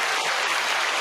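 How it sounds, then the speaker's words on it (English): A crowd claps in a dense, continuous burst, loud and near, with no voices standing out. "big applause for her"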